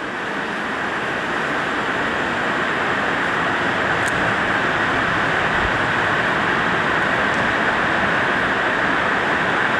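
Heavy rain pouring steadily outside an empty regional hospital building in Sintang, a dense, continuous hiss that stays loud and unbroken throughout with no voices.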